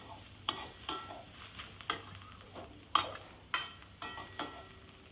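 A utensil stirs fried mustard greens mixed with crushed fried lentil dumplings in a pan, making about nine sharp scraping strokes at an irregular pace over a faint sizzle.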